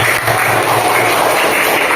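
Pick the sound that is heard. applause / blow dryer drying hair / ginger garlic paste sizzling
applause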